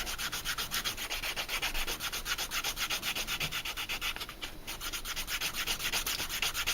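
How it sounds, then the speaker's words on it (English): A slicker, or edge burnishing tool, rubs up and down on wet leather, giving a steady rhythmic scraping that continues without a break for several seconds, close and fairly loud, with no talking. "which is more conducive to getting deformed by you rubbing up and down on it like this. Yes, wet rubbed leather."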